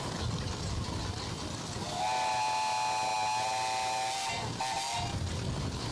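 A 1914 40 horsepower Case steam engine blows its steam whistle at an outdoor parade, a loud sustained steady tone lasting a few seconds over a rumbling engine and crowd noise.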